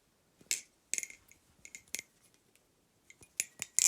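Sharp metallic clacks and clicks from flipping a 7075 aluminium balisong trainer, a Kraken clone, come in irregular bursts, several in quick succession, crisp and close against an otherwise quiet background.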